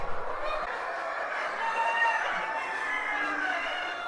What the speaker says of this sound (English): So there's one rooster and about a dozen hens provided.